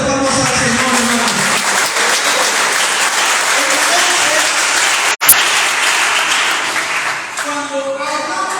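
A church congregation claps for the Lord in a long, steady roar of applause, loud and continuous, with a voice speaking over it at the start and end and a brief cut midway.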